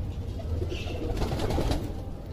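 Low, rolling coos come from a group of flying pigeons, blending into a steady background of flock noise and soft fluttering, fairly close, without any talking.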